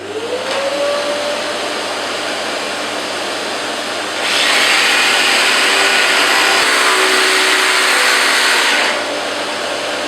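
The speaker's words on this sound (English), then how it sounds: "I'll just turn the extractor on." A workshop dust extractor, switched on during a sawing job, gives a loud, steady broadband roar for about five seconds and then shuts off. Quieter room noise is heard before and after.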